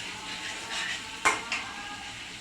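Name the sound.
shrimp added to pan of frying ridge gourd, sizzling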